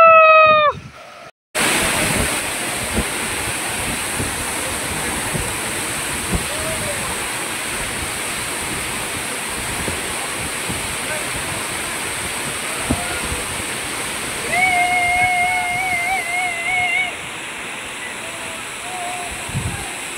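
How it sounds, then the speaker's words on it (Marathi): Zenith Waterfall at Khopoli gives a constant, loud broadband roar of falling water for the whole stretch, with brief voices near the start and partway through. "फायनली आपण आलो जेनी वॉटरफॉलला."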